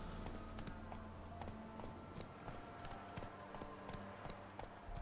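Horse hooves in The Witcher 3 clatter in a steady, continuous clip-clop rhythm, moderately close, over a low droning background of game ambience, with no talking.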